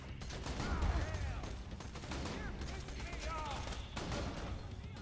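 Rapid gunfire from Jakobs guns in Borderlands 2, repeated shots in quick bursts over a steady background of game sound, with other game effects mixed in.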